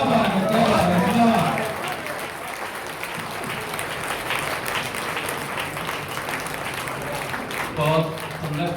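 An audience at a Hindi poetry recital (kavi sammelan) in Karnal, Haryana, breaks into loud, sustained applause lasting several seconds, with voices heard briefly at the start and near the end.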